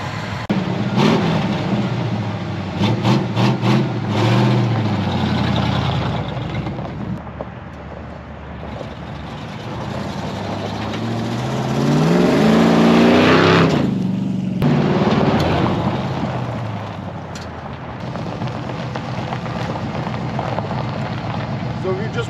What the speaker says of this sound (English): The engine runs nice and smooth.